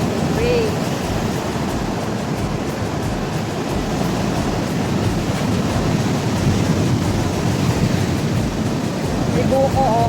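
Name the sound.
strong waves at beach during typhoon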